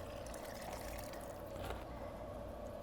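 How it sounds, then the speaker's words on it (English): Teriyaki marinade poured into a resealable plastic bag, a steady, continuous liquid pour with a soft splashing hiss that runs the whole time without a break. "We are going to pour the marinade into a bag."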